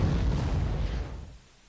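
Artillery fire in the Panzer Corps strategy game set at Kharkov in 1943: a loud, rumbling explosive burst that sustains for over a second, then drops away quickly into near silence.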